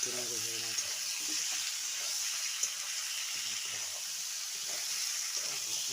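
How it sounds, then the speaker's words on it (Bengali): Tomatoes sizzle steadily in a hot frying pan while being stirred, during cooking of a fish, potato and bean curry with black cumin; a faint voice murmurs now and then beneath the constant frying hiss. "টমাটমটা দিয়ে দেওয়ার পর টমাটমটাকে ভালো করে আবার নেড়ে দেবো"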